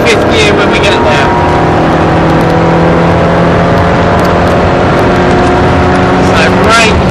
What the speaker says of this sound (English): You then start to pick up the power through here, accelerating hard over to the left, up to 6th.